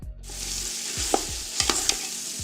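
Camel meat cooks in a pot with onion, tomato, green chilli and spices, sizzling steadily up close while a utensil stirs and scrapes a few times against the pot.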